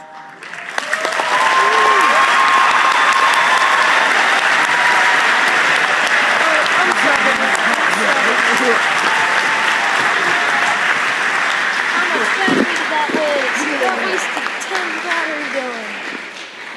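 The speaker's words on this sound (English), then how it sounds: "give another round of applause" Sustained audience applause at the closing ceremony of the 2014 MLTI conference at UMaine, loud and dense, swelling in after a second and holding steady for the whole stretch with a few voices calling out over the clapping.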